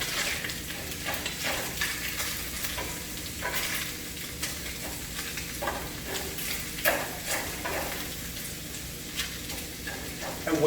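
Turkey bacon, leeks and spinach sizzle and crackle steadily in a pan while being tossed, with scraping stirring noises breaking in at irregular moments over a continuous frying hiss.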